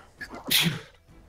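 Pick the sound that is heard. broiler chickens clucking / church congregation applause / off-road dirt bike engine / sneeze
sneeze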